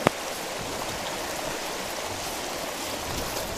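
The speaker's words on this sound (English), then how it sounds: "The stream is high." A stream running high after rain rushes steadily outdoors, a loud, constant broadband roar of flowing water with no pauses.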